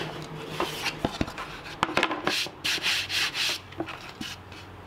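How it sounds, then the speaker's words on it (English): A wooden pizza peel is hand sanded in short, soft rubbing strokes, with a few light taps and knocks early on, quiet and close. "Just a touch of smoothing on the flip side, and hand sand to finish."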